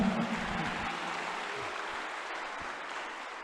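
A church congregation applauding at an evening service, a loud burst of dense clapping at the start that carries on steadily and eases off slowly, with no voice over it.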